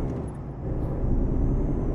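A truck cruises at night in Euro Truck Simulator 2, a steady low engine drone with a brief hiss near the start, close and even throughout, without speech.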